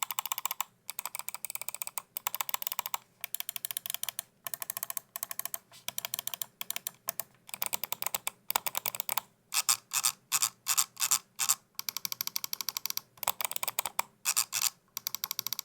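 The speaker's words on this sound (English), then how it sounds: "I totally forgot to give you the sound test of the buttons here" A Zowie wireless gaming mouse has its buttons clicked over and over in quick bursts and steady runs. The crisp, close clicks sound alone with no talk.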